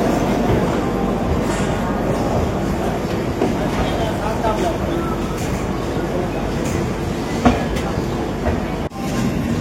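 A passenger train that has left Howrah station rolls steadily on the rails, a continuous rumble with rhythmic clatter heard from inside, and a brief clunk near the end.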